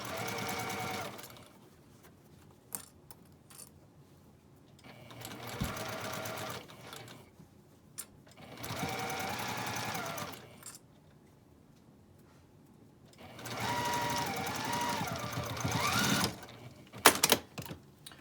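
A sewing machine stitches a fat-quarter fabric scrub cap in four long, steady runs of fast motor whirring and needle clatter, with quiet pauses between them.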